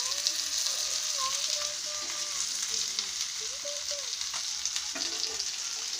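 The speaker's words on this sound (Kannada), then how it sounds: "ತವಾ ಫ್ರೈ." Food shallow-frying on a tawa in oil over a low flame gives a steady, close sizzling hiss with a few soft clicks and faint tonal sounds behind it.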